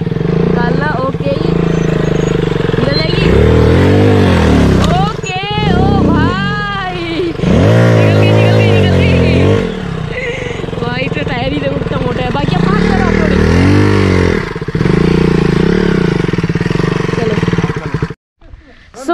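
A scooter engine revs loudly in repeated strained surges as it pulls out of a pit, close by, with people calling out over it before it cuts off abruptly near the end.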